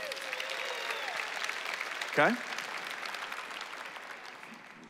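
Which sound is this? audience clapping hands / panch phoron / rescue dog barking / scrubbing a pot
audience clapping hands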